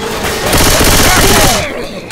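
Loud, dense automatic gunfire in Left 4 Dead 2 roars as one continuous close burst that tails off after about two seconds, with voices mixed in under the shooting.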